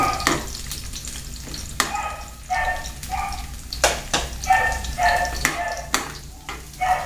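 Garlic sautéing in a pan for a Filipino pork and beans dish, a steady close sizzle broken by repeated scraping stirs of a utensil against the pan, with loud clanks at intervals.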